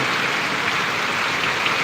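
A thick, unbroken wash of heavy rain drums down in Parvadi village, loud and near, with nothing else audible above the steady roar.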